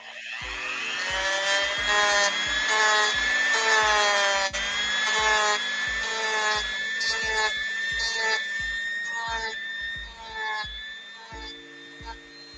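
A Dremel rotary tool with a coarse bit grinds an action figure, giving a loud, close, high whine with a repeated rhythmic buzz that wavers in pitch as it bites the material.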